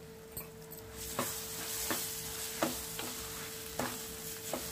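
Hot tempering of dried red chillies in oil is stirred into coconut chutney, a quiet sizzle under a series of evenly spaced spoon clinks against the pot, about one every second.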